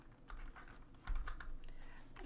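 Quiet, rapid clicking of fingers typing on a computer keyboard, irregular keystrokes continuing for a couple of seconds with no talk.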